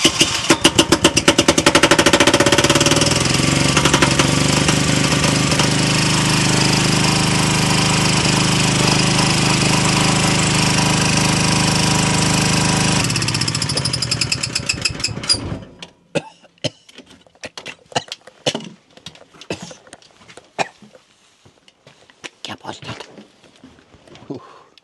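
A car engine cranked with a Popdeer PD-JA5 5000A jump starter roars loudly for about fifteen seconds, then cuts off, leaving faint clicks and a voice speaking in the quiet.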